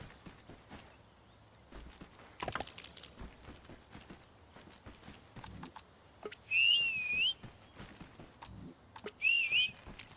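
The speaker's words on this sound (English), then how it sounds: "I hate having to hit the whistle more than once because it's loud as fucking hell" Two loud, rising whistle calls summon a horse in a video game, the second shorter, with hoofbeats and footsteps clopping faintly around them.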